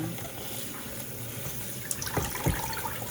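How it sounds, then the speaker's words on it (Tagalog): Running water splashes steadily as spoiled cooked rice is rinsed by hand, with a constant close hiss and a few brief splashes and trickles near the end. "Huhugasan ko to para matanggal yung pagkapanis."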